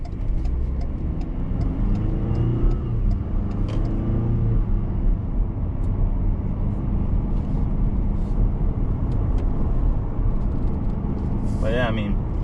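A 2020 Ford Ranger XLT Sport 4X4 pickup engine hums and rumbles steadily under continuous talking, with a brief rising whine near the end like a gear change.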